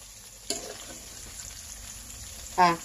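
Pork steak browns in a frying pan with a steady low sizzle, interrupted by a brief stir near the start and a louder scraping burst near the end.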